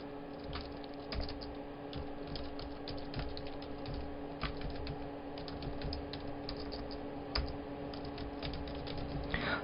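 Typing on a computer keyboard during a Photoshop lesson, with steady irregular clicks of the keys close by and no talk.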